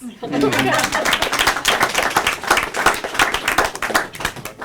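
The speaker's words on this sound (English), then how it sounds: "Applause." An audience at a university symposium on Indigenous peoples claps steadily for the full stretch. The applause is dense, lively and close, with a scatter of individual hand claps and no talk over it.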